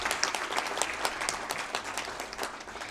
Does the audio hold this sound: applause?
yes